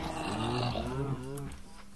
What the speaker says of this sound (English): I hear a zombie under me.